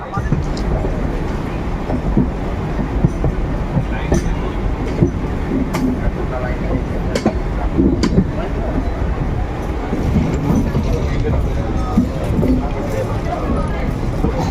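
A Howrah local train draws near along the line, with steady rumbling rail noise, wheel clatter and occasional squeals, while a person talks.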